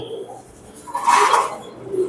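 Pigeons in a breeder's show-pigeon loft give a soft, low burst of cooing midway through, fairly close, over a quiet background with no talking.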